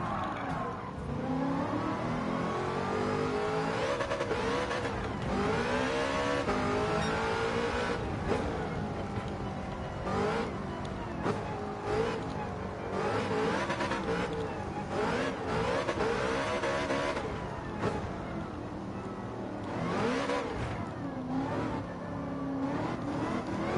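A heavily powered car in Gran Turismo 7, its engine revving hard and bouncing repeatedly off the limiter, loud and continuous with rapid pitch swings and no talk.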